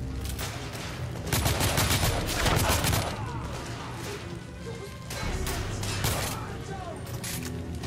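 Big gun firing in the shooter The Order: 1886, heavy sustained bursts of loud, close gunfire with crashing impacts, rolling on in waves while a voice speaks over the battle.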